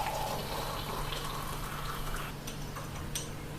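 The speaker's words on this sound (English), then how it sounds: "I'm going to pour some hot water inside the beaker" Hot water pours steadily into a glass beaker set on a tripod over a Bunsen burner, a continuous close splashing fill with a faint clink near the end.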